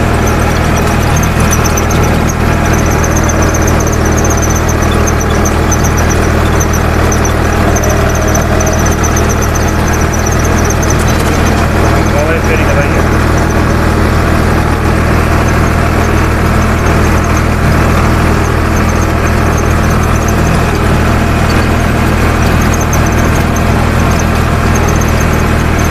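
A Farmtrac 60 EPI tractor runs a seven-foot Shaktiman rotavator in the field. The engine drones loud and steady throughout, with a persistent high whine or squeal over the low rumble and no talking.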